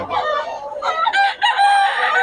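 A rooster crows close by with a loud, wavering call, followed by a few clucks, over about two seconds with no talk.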